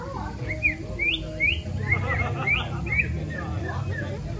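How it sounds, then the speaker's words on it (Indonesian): Several birds chirp and tweet in short, repeated calls around a fishing pond, fairly clear over a low background rumble and faint murmur of voices. "Banyak burung tuh. Jadi suara-suara burung alami di sini."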